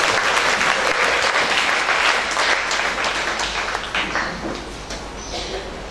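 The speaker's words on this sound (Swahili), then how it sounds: "Shangilia Bwana Yesu kwa makofi." Church congregation clapping together after a call to praise the Lord, a dense sustained burst of many hands close by that thins and fades slightly toward the end.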